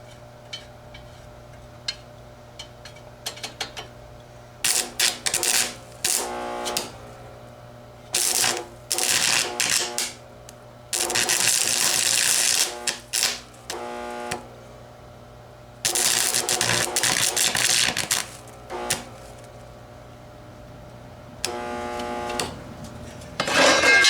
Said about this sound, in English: It's hard to weld with a damp welding rod.